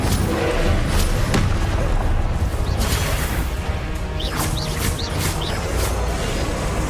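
The Incendio fire spell is cast in Hogwarts Legacy amid other magic, giving dense, loud whooshing blasts and crashing impacts that run almost continuously, with brief bright streaks on top.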